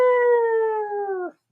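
A single wolf-style howl, close and loud, holds a steady, slightly falling tone with clear harmonics for over a second before cutting off, heard alone as a sound effect welcoming new followers during a live stream.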